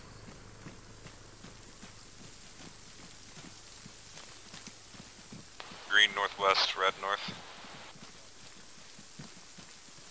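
Steady rain in a military tactical video game, a soft continuous patter of drops with scattered taps, under radio-style talk, and a brief burst of a higher voice midway.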